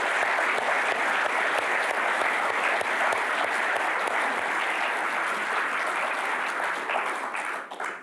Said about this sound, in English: Give them all a fantastic clap.